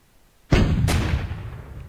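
A heavy cannon blast in the World War II tank strategy game Frontline Road to Moscow, with a sharp crack, a second report close behind and a long rumbling decay, loud and with no voices.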